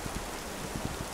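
Steady rain falls in the Wild West video game This Land Is My Land, a constant soft hiss with faint scattered drops, quiet and even from start to finish.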